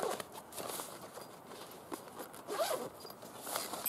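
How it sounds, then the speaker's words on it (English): A zipper runs along a Kmart utensil set bag holding tongs and a carving fork, a few quick close rasping pulls with soft handling rustle around them and no voices. "zips up"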